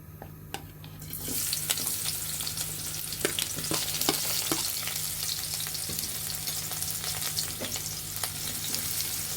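Spice paste with cumin hits a hot pan for an eggplant chop recipe and erupts into loud, continuous sizzling after a brief quiet start, with scattered clicks and scrapes of stirring mixed in.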